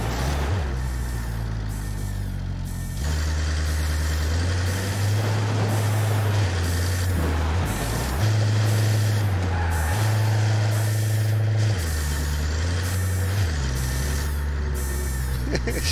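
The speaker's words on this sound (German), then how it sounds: "ich fahre den LKW raus und komme wieder zurück" A heavy truck engine in the video game Ghost Recon Breakpoint drones steadily throughout, with hissing air-brake bursts and a shift in engine pitch partway through, loud and close.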